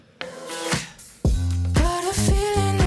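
A dance pop verse plays loud and upfront, with punchy kick drum, bass, claps and hi-hats. After a sparse opening the beat drops in hard partway through and keeps driving in a steady, repeating groove.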